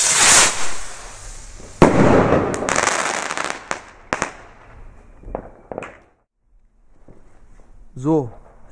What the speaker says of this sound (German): Einfach nur geile Rakete.